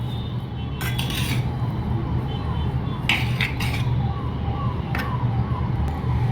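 A teaspoon mixes fish in a cooking pot for Kerala-style meen peera pattichathu, making several distinct metallic clinks and scrapes at irregular intervals over a steady low background hum.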